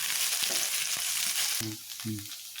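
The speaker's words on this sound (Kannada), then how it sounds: "ಹೀಗೆ ಇದನ್ನು ಎಲ್ಲ ಒಟ್ಟಿಗೆ ಫ್ರೈ ಮಾಡಿಕೊಳ್ಳುವ." Ginger-garlic paste and chopped green chilli frying in a pan for a coastal-style clam sukka, with a steady broadband sizzle and a few soft stirring knocks.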